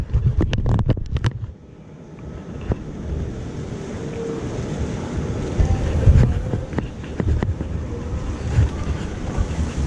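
Strong wind blows across a hot, quiet street in Taiwan, buffeting the microphone as a continuous roar with irregular gusty bumps and a few sharp knocks.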